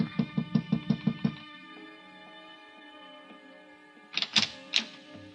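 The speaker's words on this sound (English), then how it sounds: "then I knocked on her door" Knocks on a hotel room door in a 1955 CBS radio drama: a quick run of about six sharp raps, a pause with a faint background tone, then a few more knocks.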